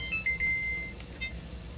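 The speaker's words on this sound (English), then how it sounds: "the halfway timer just went off for my meatballs" Kitchen timer going off for meatballs while onions cook, a few short, faint high electronic beeps early on, followed by a quieter repeat, over low kitchen background with no talk.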